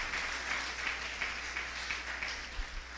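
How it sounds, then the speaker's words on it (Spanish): Church congregation at a year-end Sunday service applauding to welcome returning members, a dense sustained round of clapping from a crowd for the whole clip. "Démosle un aplauso a ellos de bienvenida."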